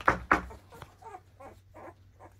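American Bully puppies make a few close, soft whimpering and pattering sounds: two louder yelps at the start, then a string of quieter, fainter squeaks and shuffles over a low steady hum.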